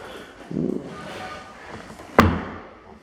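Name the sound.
car door being shut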